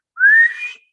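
A person whistles one high, rising note, imitating a bird's sharp call; the whistle is loud and clear, lasts under a second and is heard alone.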